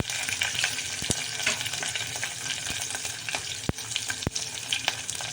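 Cumin, garlic and green chili sizzle in hot oil after mustard seeds, a close steady crackle with a few sharp spatula clicks against the pan.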